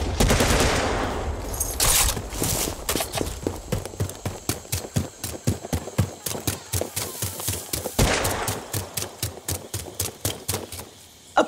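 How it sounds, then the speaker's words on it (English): Rapid bursts of video game gunfire crack out loudly in a fast, rhythmic string of sharp shots, pausing briefly before another volley resumes near the end. "Shoot that thing!"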